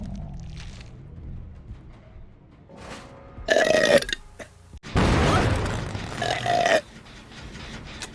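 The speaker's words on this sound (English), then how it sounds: "You get a burp." A vtuber's burps, two long loud belches in succession with softer mouth noises and faint voice before them.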